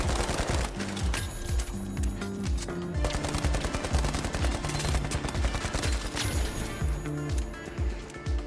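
AKM assault rifle firing in the video game The Finals, rapid automatic bursts of gunfire in quick repeated strings, loud and close, with brief gaps between bursts.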